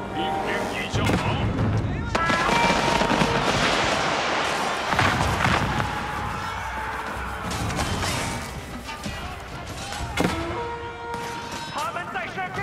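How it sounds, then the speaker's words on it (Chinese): Enemy artillery barrages in Age of Empires IV, heavy booms and crashing impacts with crackling gunfire piling up into a loud, continuous battle din, with unit voices calling out over the top. "我们遭受了敌人的炮火。"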